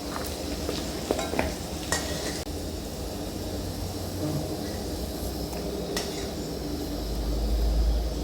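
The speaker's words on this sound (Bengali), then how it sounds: "আলুগুলোকে ভালোভাবে লাল লাল করে ভেজে নেবো আমি।" Potatoes fry in mustard oil in a wok, a moderate sizzle broken by a few clinks and scrapes of a spatula stirring, with no talk.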